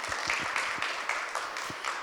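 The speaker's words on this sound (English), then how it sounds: "join me in giving a round of applause" Applause for presenters at an event about implants, heard as a soft, steady patter of many hands clapping together. It sounds somewhat distant and stays even, with no voices on top.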